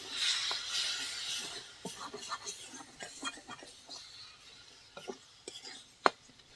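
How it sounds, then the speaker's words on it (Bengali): Spices, chopped tomato and water being stirred in a pan, giving soft scraping and light clinks of a utensil at close range, intermittent and fairly quiet, with one sharper knock near the end. "এবার মিশিয়ে নেব।"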